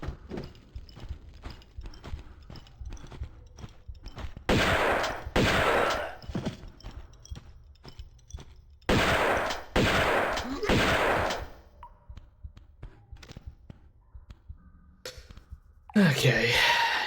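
Bursts of SMG fire from enemies in the game Tomb Raider Remastered rattle out in repeated rapid volleys, interleaved with quieter shots and other game sounds, loud and close.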